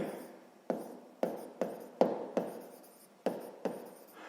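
A pen writes on paper in short, quick strokes, about nine distinct scratchy bursts spaced irregularly and heard close up with no talking.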